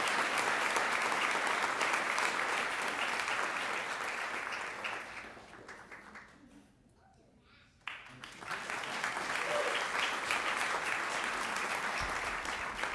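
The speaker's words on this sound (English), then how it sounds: "Join me in applauding Jenny Hyatt." Audience applause at a city volunteer recognition ceremony in Salem, sustained clapping that fades into a brief lull, then swells back up and continues strongly.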